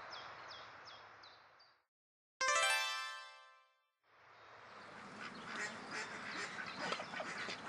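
Several short duck calls repeat at the start, then a loud burst of harmonic honking, followed by a busy mix of clucking and chattering fowl.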